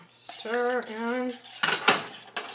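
After a short spoken phrase, a spoon clinks and scrapes against a pot while diced tomatoes and green chilies are stirred into black bean quinoa chili, with a few sharp metallic knocks close by.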